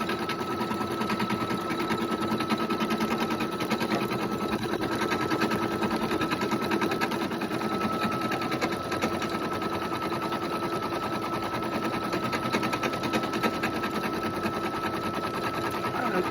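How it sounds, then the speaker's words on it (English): Embroidery machine stitching a red dinner napkin, a steady close mechanical whir with rapid needle ticking that runs unbroken and evenly throughout, with no voices. "you don't need to know how to sew to embroider because the embroidery machine does it all for you"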